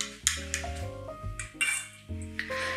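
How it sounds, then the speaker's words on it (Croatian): A wire whisk beats milk, sugar and yeast together in a bowl, giving quick metallic clinks and scrapes against the bowl in an uneven rhythm, close up with no talking. "I sad ovako žicom ovo mleko i šećer zajedno sa kvascem sjedinim"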